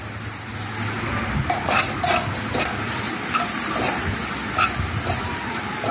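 Slit green chillies fry for rasam in a pan, a loud, close, steady sizzle with intermittent scraping and clinks of a spoon stirring against the metal, and no voices.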